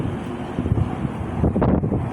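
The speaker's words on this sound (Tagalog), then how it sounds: "Sobrang hangin." Strong gusts buffet the microphone outdoors on a path leading to a creek, a loud, continuous low rumble that swells and surges toward the end, with no voices.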